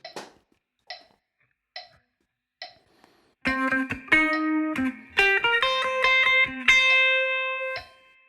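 A few muted clicks and ticks count in at a steady beat, then a distorted electric guitar plays a short riff of ringing notes and chords from a song.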